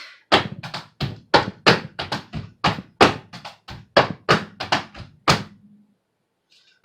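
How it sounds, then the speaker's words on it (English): Crisp tap shoe strikes beat out a quick, syncopated rhythm on a hard floor, close and loud, then stop into silence. "I'm gonna do it without me talking so that you can actually hear the rhythm of my feet"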